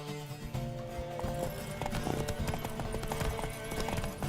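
Hooves clop in a rapid galloping rhythm from a horse in The Witcher III: Wild Hunt, with a brief whinny amid steady game background music.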